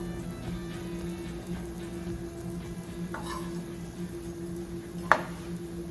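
A flounder fillet sizzles in a pan with olive oil, a steady soft frying hiss with a faint hum and one sharp clink near the end.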